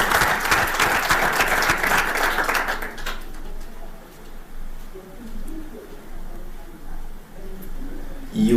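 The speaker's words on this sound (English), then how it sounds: "I think we should give all those great Kenyans a round of applause." Dense audience applause fills the opening seconds at a 2023 Safari Rally event in Kenya, then cuts off abruptly, leaving quiet room ambience with faint bird coos.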